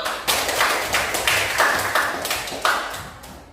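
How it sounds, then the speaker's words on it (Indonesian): Schoolchildren clap together in an Indonesian classroom lesson, giving a near, fairly loud burst of several sharp, uneven clap accents over a steady patter, with no voices. "Oke, tepuk tangan dulu."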